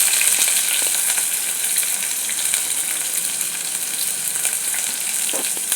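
Onions, green chillies and whole spices like cloves and cinnamon sizzle steadily in hot oil for biryani, a dense continuous frying hiss with faint stirring scrapes.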